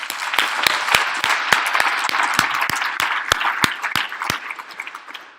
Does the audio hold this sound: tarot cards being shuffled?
no